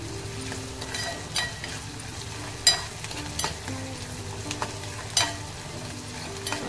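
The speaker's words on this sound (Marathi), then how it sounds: "आपल्याला तर हा कांदा चांगला शिजवून घ्यायचा आहे" Onion fries in an oil-filled pan for chana masala, a steady close sizzle with occasional sharp clinks and scrapes from stirring.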